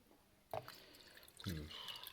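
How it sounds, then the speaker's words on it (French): Whole milk poured into a new jar for making milk kefir, a short liquid trickle and splash at the start and another longer pour later, close and fairly quiet in a kitchen. "Et donc ensuite, je mets simplement du lait"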